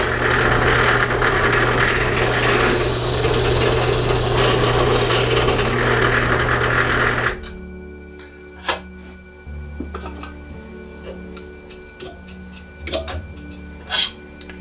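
A drill press bores a hole with a pilot bit sized for a 1/4-inch tap, following a 1/8-inch pilot hole, while building a DIY camera slide. A loud, steady grinding whir runs for about seven seconds, then cuts off, leaving scattered light clicks and handling noises.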